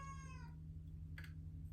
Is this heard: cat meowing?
yes